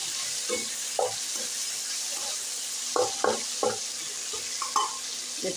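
Rayo ko saag with potatoes frying in a pan, a steady sizzle under a few scattered scrapes and stirs close by.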